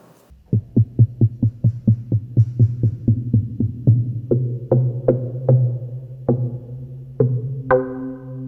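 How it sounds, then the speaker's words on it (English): Short, heavy kick-drum-like synthesizer percussion hits with reverb, about a dozen steady thumps followed by sparser, brighter ones, each decaying quickly into a lingering tail. "some very transient heavy and short sounds, basically like kick drums or just some percussion sounds"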